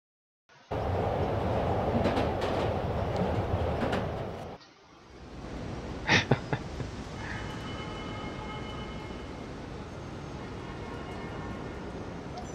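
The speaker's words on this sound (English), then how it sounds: "I like how he was just taking the subway." A subway train in Marvel's Spider-Man video game rumbles loudly through a tunnel, then the noise drops away, followed by a few sharp clanks and a quieter hum with faint chirping tones.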